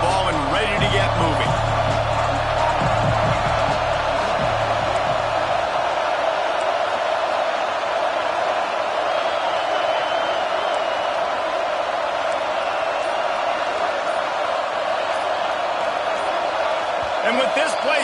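A stadium crowd roaring steadily in the College Football 26 video game during a Notre Dame versus Iowa matchup, a continuous loud wash of noise with a few thumps early on and a commentator's voice over it.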